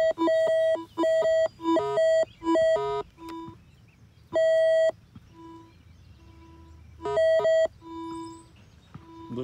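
A White's V3i metal detector sounds repeated electronic tones in a park: several quick high beeps, then lower steady pulses and more beeps, clear with no talking.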